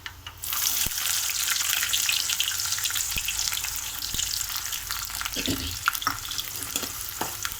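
Fenugreek seeds, fennel seeds and onions start sizzling in hot oil with a sudden hiss, then crackle steadily up close with scattered pops and light stirring.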